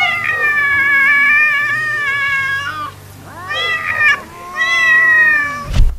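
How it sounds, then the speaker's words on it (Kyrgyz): Angry cats yowl loudly at close range in long, wavering, drawn-out cries that rise and fall and overlap, with a brief lull midway and a sharp thump near the end. "бирок бул мышыктардын жини келсе"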